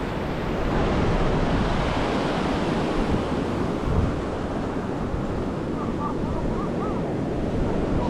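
Ocean surf rolling onto Karon Beach in Phuket, Thailand, a loud continuous wash of breaking waves mixed with wind buffeting the microphone, no voices.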